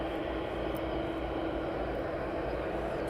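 A DHL cargo aircraft at East Midlands Airport gives a steady, broad engine roar that holds evenly throughout, sounding moderately distant.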